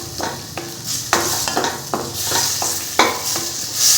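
Tomatoes sautéing in a pan for chutney: close, continuous sizzling broken by repeated stirring scrapes and clacks of a spoon against the pan, with no talking.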